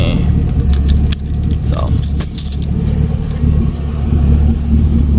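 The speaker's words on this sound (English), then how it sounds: "So we'll come with 2 keys. Got one right there, one right there." Car keys for a fifth-generation 2SS Camaro with a 6.2L engine, including a flip key, jangling close by in short metallic bursts over a steady low engine hum, with someone speaking briefly.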